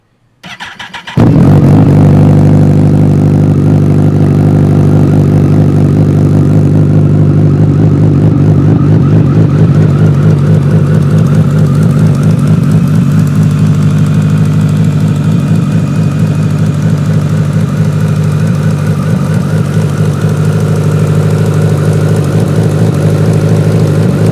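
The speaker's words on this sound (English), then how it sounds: "Let's hear it start up." A motorcycle engine cranks and fires up, then settles into a steady, loud, close idle with a deep throbbing rumble that holds for over twenty seconds, with no talking.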